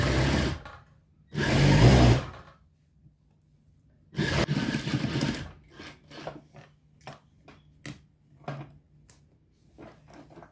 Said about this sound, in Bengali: প্রথমে 1 ইঞ্চি সাইজের একটা সেলাই দিয়ে দেব